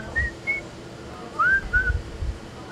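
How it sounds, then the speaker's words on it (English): A man whistles a few short, clear notes, brief rising and falling tones spaced out over a few seconds, close and alone without talk. "One thing that I'm secretly good at is whistling."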